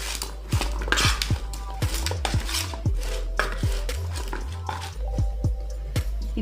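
Spices and salt being mixed into okra masala in a dish, with repeated soft clinks, scrapes and squishy stirring sounds in a steady irregular rhythm, close and moderately loud.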